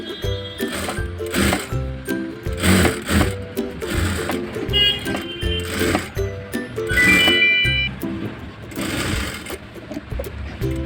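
A sewing machine fitted with a zipper foot stitches an invisible zipper into a frock, running in a close, steady mechanical chatter with brief slowdowns and restarts.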